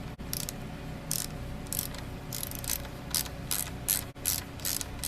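A wrench works on the positive battery terminal of a motorcycle, making a quick run of repeated ratcheting clicks in short bursts, close and fairly loud, with no talk.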